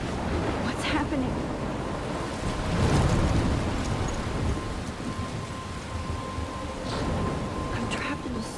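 A storm near a lighthouse in the video game Life is Strange brings steady rushing rain and wind with a deep roll of thunder swelling midway, a constant loud roar throughout.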